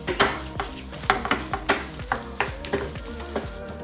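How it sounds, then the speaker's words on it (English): A spatula stirs stir-fried tofu in a hot pan, scraping and tapping metal in a steady rhythm over a constant sizzle, close and clear, with no voices. "mix it well and you're almost done. Make sure all of the tofu is evenly coated."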